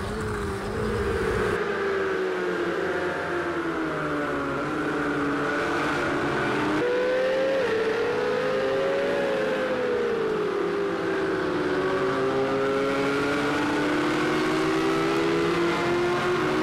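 A race car engine in Project CARS 2 drones loudly and steadily, its pitch rising and falling as it revs, with a brief drop and recovery as it shifts up into fourth gear. No voices can be heard.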